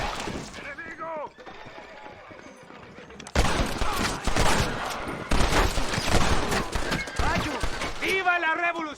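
Gunfire rattles in the video game Red Dead Redemption, with bursts of rapid close shots coming in clusters, and voices shout in the game between and over the volleys.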